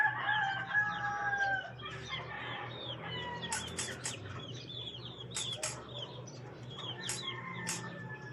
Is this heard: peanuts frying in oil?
no